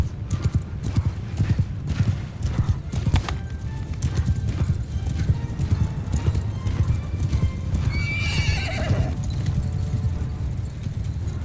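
Horses gallop with steady rapid hoofbeats in a Mount & Blade II Bannerlord battle, a dense clip-clop running throughout, with a sharp whinny rising near the end over the background din.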